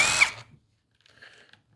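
A power tool spins briefly and loudly, removing bolts from a 50cc dirt bike, then cuts off, followed by a faint, short mechanical rattle.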